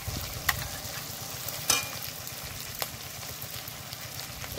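Ginger, garlic, cumin and dried chili paste fry in hot oil while being stirred, with a steady sizzle and a few sharp clicks of the spoon against the pan, close and without speech.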